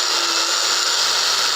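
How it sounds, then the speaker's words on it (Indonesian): A cheap cordless grinder with a sanding pad, run at its lowest speed setting, sands the surface of a wooden board, giving a loud, steady high-pitched whine with no pauses. "Selanjutnya kita akan coba mengamplas ini ya, permukaan papan ini menggunakan pad amplas seperti ini"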